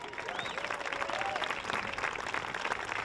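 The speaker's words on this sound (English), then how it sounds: "Let's please offer a special round of applause for Reading seniors." A crowd at a high school boys varsity soccer game applauds visiting seniors, a sustained wash of clapping with a few whistles and cheers mixed in, steady and moderately distant.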